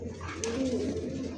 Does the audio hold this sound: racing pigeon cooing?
yes